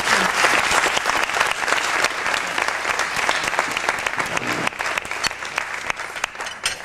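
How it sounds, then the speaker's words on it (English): Sustained applause from an audience honoring a humanitarian and civil rights figure with Haitian roots, dense and steady clapping throughout with no voices over it. "Give him another round of applause."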